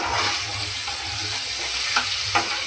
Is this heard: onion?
yes